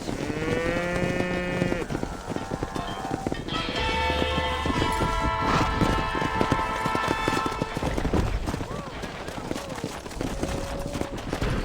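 A cattle herd in the video game Red Dead Redemption lows in long, overlapping moos, loud and close, over steady horse hoofbeats clip-clopping beneath.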